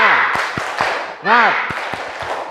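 A class of schoolchildren performs a rhythmic 'tepuk semangat' clapping cheer, sharp claps at a steady beat mixed with a teacher's voice and the children's chanting.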